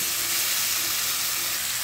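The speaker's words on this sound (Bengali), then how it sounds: "এখন আমি নেড়ে চেড়ে একটু কষিয়ে নিয়ে" Ground spices are stirred and fried in a hot pan for a hilsa fish head and green banana curry, giving a loud, steady, close-up sizzle with no voices.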